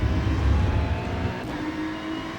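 A Ferrari 296 GT3 race car's engine drones steadily at Imola in the iRacing simulator, a continuous loud mechanical roar with some rumble early on that eases slightly, heard alone without talk.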